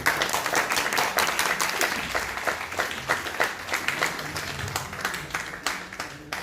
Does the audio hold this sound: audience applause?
yes